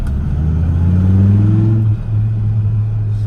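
An American car's engine revs up nearby, its pitch rising in a low throaty roar, then drops and settles back to a steady idle.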